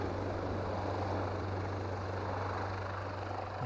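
An aircraft arrives at East Midlands Airport with a steady, distant engine rumble and a low droning hum, heard alone with no talk.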